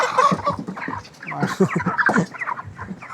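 Large 50-day-old chickens cluck close by at a buyer's site in a busy run of short, overlapping calls that keep going the whole time.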